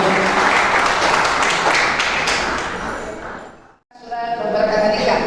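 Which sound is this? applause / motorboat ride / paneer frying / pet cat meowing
applause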